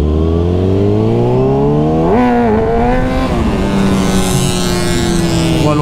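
A Kawasaki ZX636 motorcycle engine revs loudly and close up, pitch climbing steadily, dipping briefly, then climbing again into a high-pitched wail under hard acceleration, with no voices.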